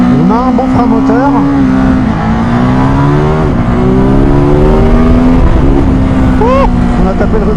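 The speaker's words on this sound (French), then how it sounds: "On a tapé le rupteur." Ducati Monster 2021 motorcycle engine revving hard and bouncing off the rev limiter, repeated sharp rising blips and stutters in a loud, close on-board roar, with speech mixed in.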